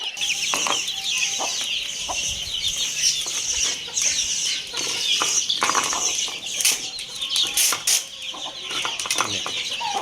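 A hen clucks repeatedly nearby, with flurries of wing flapping and other chicken sounds around her.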